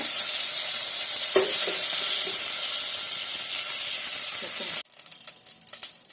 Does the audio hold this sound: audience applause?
no